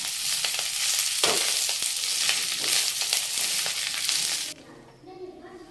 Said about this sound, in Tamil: எண்ணெய் காஞ்சதும் இந்த முருங்கை இலையை வந்து இதில் போட்டு கரெக்டாக ஒரே ஒரு நிமிஷம் தான் இதை வந்து வதக்கணும்.